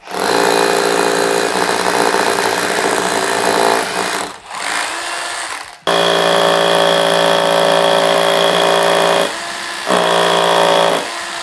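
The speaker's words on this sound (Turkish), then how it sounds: "Bunu darbeli delme moduna alıyorum hemen." A power drill set to hammer mode runs in loud, steady, close bursts, stopping briefly twice before starting up again.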